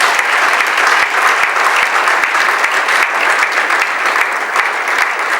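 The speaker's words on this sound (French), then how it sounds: "vous allez l'acclamer comme il se doit" A crowd applauds a pastor, a loud, dense and continuous wash of many hands clapping that holds evenly for several seconds with no break.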